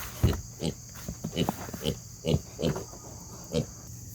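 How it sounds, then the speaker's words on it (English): Pigs grunting at feeding time, giving a string of short, irregular snorts and grunts close by over a faint steady background hum. "Wiglet Piglets. You ready to eat?"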